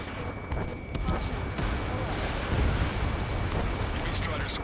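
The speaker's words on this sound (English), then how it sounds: "Gunfire and the roar of jets echoing through the streets." Dense rumbling gunfire and jet-engine roar from Ace Combat 7, a sustained loud wash of explosive battle noise with no clear gaps, as if echoing through city streets under martial law.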